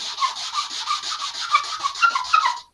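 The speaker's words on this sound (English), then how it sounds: "So there's a piece of sandpaper, going to stack things up like this. And oh, make an awful sound." Sandpaper rubbed in quick back-and-forth strokes over model rocket parts to knock off burrs, a harsh, scratchy rasping that repeats in a steady rhythm close up, with no one talking.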